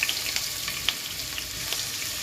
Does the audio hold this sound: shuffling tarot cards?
no